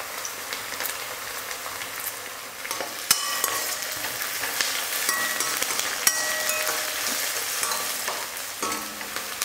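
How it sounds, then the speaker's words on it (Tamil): Onions with curry leaves sizzle and crackle steadily in a hot pan, with occasional stirring scrapes and clicks over the constant frying hiss. "வெங்காயம் ஓரளவுக்கு நல்லா வதங்கிடுச்சு."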